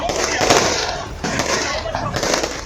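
Fireworks at the Golden Temple in Amritsar, a dense crackle of overlapping bursts with a few sharper pops, under a narrator's voice.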